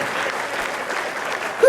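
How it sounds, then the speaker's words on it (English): A retirement party crowd gives a round of applause for a retiring police chief, steady clapping from a room of guests with voices mixed in and a brief louder burst at the end. "he at least deserves a big round of applause for his years of service"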